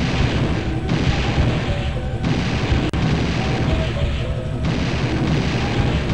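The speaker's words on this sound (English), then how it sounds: "Yeah, I can shoot missiles." Missiles launching and blasting in Banjo-Tooie during a deep-sea fight, a dense, sustained rumble of booming explosions that stays loud for the whole stretch, with no pause between impacts.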